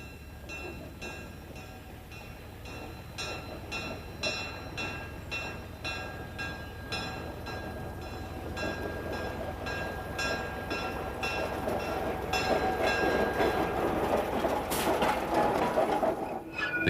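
Ride aboard a real caboose on the Pine Creek Railroad, with steady wheel rumble and rhythmic clickety-clack over rail joints, growing gradually louder and denser toward the end; no voices.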